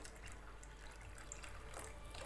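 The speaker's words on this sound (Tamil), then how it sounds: "இன்னும் கொஞ்சம் தண்ணி போட்டு" Steady rush of water pouring into a pot of sardine curry, a continuous close splashing flow with no talking.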